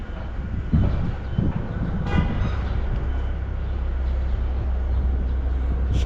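Large train standing at Ulaanbaatar railway station in Mongolia, a steady low rumble and hum close by, with a brief metallic clank and squeal partway through.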